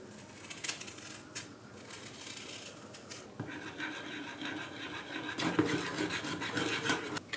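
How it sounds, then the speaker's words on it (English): Half a lemon is zested against a grater in short, dry rasping strokes, close and soft, growing busier toward the end, with no talking. "the zest from about half of a lemon"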